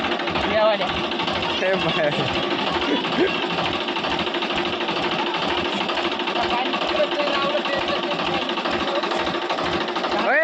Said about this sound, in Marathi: हे ट्रॅक्टर जाग्यावर लागला आता हे ट्रॅक्टर कोणाच्या वावरात जाते रे आपल्या जाते